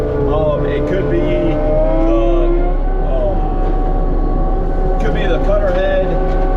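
An ASV VT 100 skid steer forestry mulcher at work clearing land around a pond gives a loud, continuous engine drone with a faint, wavering whine riding on top, while someone talks over it.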